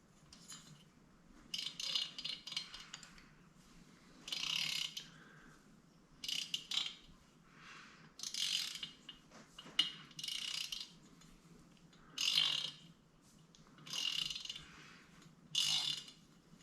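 A ratchet torque wrench clicks as it tightens a cylinder head bolt on a Harley Twin Cam 88 engine, coming in repeated bursts of close, crisp ratcheting with short pauses between strokes.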